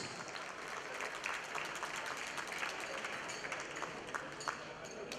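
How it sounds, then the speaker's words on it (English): Steady applause from a pageant audience at the 2015 Miss South East Asia final, a dense wash of clapping that carries evenly through the whole stretch without letting up. "let's give them another warm round of applause"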